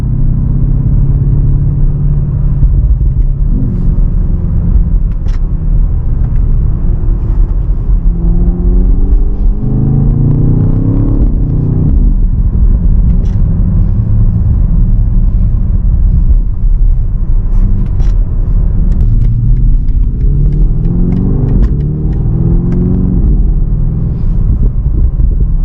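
A BMW XM rumbles under load on the road, its engine and exhaust droning loud and steady, with pitch sweeping up through shifts and a few faint pops over the continuous cabin roar.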